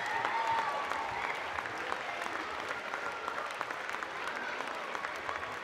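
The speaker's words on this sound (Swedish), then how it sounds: "de ska ha den största av applåder" A crowd of children and parents applauding at a handball club's season-ending awards ceremony, with steady, dense clapping that runs throughout and keeps an even level over several seconds.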